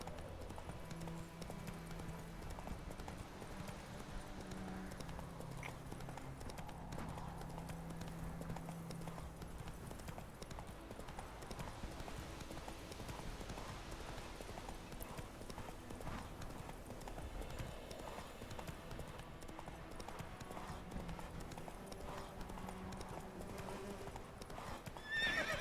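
Roach the horse galloping in The Witcher 3: quick rhythmic hoofbeats drumming on for the whole stretch, with whinnies and snorts over it, heard fairly quietly.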